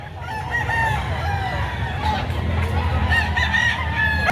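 A six-month-old Dalosapi white leg rooster crows repeatedly at a Padre Garcia market, the calls rising loud and near over a steady low rumble of crowd and background noise.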